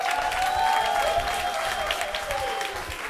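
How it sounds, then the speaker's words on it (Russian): An audience at a charity jazz concert applauds, a steady, full wash of clapping that holds at even strength and then eases slightly. "Ваши аплодисменты"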